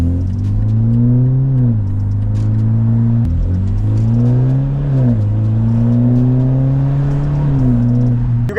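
A BMW 330e fitted with an aftermarket exhaust revs up and settles repeatedly, its loud, close engine note rising and falling in several smooth swells over a steady rumble, with no one talking.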